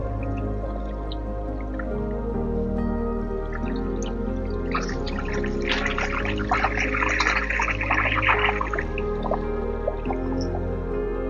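Water from the public showers on the Rhine riverside in Basel runs and splashes steadily nearby, dripping and spattering over a constant low rumble, with no voices.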